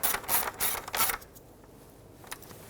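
A ratchet clicks rapidly in three short bursts while snugging the bolts of a fuel injector bracket on a 1998-2011 Ford Ranger 4.0L V6, close and fairly loud, followed by a quiet pause and a faint single tick.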